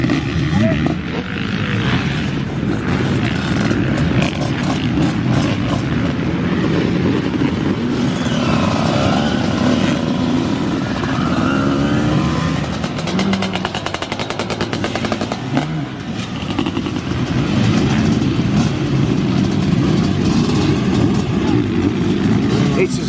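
Vintage two-stroke motocross bikes, old-school Super Evo and twinshock racers, roar and rev at a track, a dense, continuous buzzing blare with rapid throttle changes that runs loud throughout the whole stretch.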